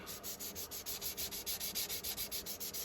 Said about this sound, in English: and sand the whole body.